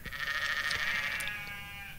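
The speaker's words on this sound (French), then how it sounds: "Les moutons bêlent à une centaine de mètres." A single close, loud, wavering bleat from a sheep in misty countryside near a castle, sustained for about two seconds, with no voices.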